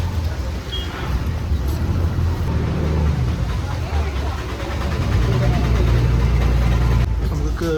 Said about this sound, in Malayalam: അടുപ്പിച്ച് കൊണ്ടുവന്നിരിക്കുകയാണ് നമ്മുടെ ബോട്ട്.